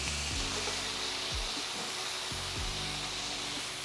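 Chicken wings for hot and spicy wings fry in a pan with a steady sizzle and hiss, a few soft knocks marking the pieces being turned over.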